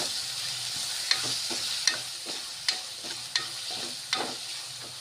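Tomato stirred into onions frying in a pan, a quiet steady sizzle with a handful of sharp spoon scrapes against the metal at regular intervals, close and fairly faint, no voices.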